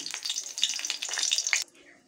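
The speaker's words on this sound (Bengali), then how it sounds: "তেলে দিয়ে দেবো শুকনো লঙ্কা।" Dried red chillies fry in hot oil for a red amaranth greens dish, crackling and sizzling close up for about a second and a half before the sound suddenly drops away to near silence.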